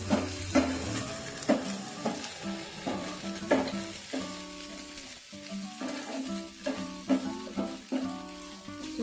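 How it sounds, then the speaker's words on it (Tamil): Spicy rice balls frying in a pan over a medium flame, a steady close sizzle broken by repeated scraping stirs and light clinks of a utensil against the pan. "மீடியம் ஃப்ளேம்ல வச்சுக்கிட்டு நல்லா ஃப்ரை பண்ணிக்கலாம்."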